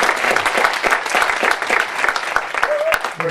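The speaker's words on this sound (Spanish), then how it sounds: "Y un aplauso para José, que nos acaba de hacer una presen" Applause from a seated audience at a blogging conference in Getxo, breaking out for a speaker right after a brief presentation, dense steady clapping throughout with a short voice at the end.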